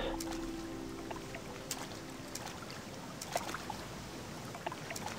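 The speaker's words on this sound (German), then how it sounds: "Gut, okay, der Wasserfall" Steady rushing water from a waterfall in the Odyssee video game, a continuous broadband wash with faint trickles and a low droning tone near the start, moderately quiet throughout.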